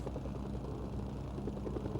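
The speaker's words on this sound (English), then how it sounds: "I have a helicopter." A helicopter flies in the video game Mercenaries: Playground of Destruction on PS2, its rotor giving a continuous low throbbing drone that holds steady and fairly quiet throughout.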